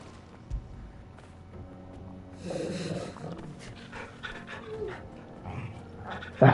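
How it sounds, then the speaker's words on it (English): A dog in Final Fantasy XVI pants and snorts close by, with brief bursts of breathy panting over low game ambience and other in-game sounds. "That's my dog."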